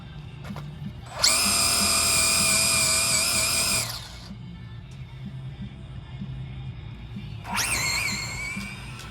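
A stock Traxxas Drag Slash RC car launches with a loud, high-pitched electric motor whine lasting a few seconds, then fades; a second short burst of motor whine follows near the end.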